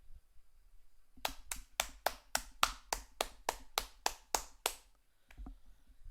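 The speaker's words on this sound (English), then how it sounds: "Clap of appreciation for that guy" A single person claps about a dozen times in a steady, even rhythm, each clap sharp and close, followed by a short pause and one or two final claps.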